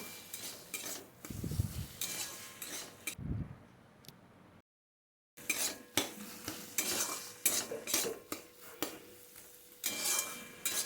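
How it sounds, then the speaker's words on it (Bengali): A spoon stirs bottle gourd and shrimp curry in a pan after a pinch of sugar goes in, giving repeated scraping and clinking strokes at close range with a brief silent gap midway. "সামান্য একটু মিষ্টি দিয়ে আবারও একটু নাড়াচাড়া করে নিচ্ছি"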